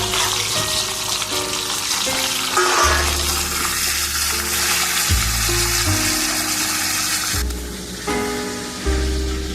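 Salted, turmeric-coated ilish fish heads fry in hot oil, a continuous close sizzle and crackle with occasional shifts as pieces are moved around the pan.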